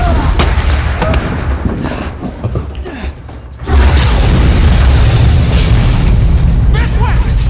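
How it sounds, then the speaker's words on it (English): Grenade blast in Dead Space 3 combat: a heavy, loud boom erupts midway and leaves a sustained roaring rumble, following earlier clatter and shouted voices. "Oh Jesus, grenade!"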